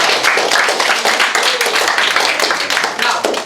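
Dense applause from a crowd, many hands clapping together at an even, loud level throughout, with no voices standing out.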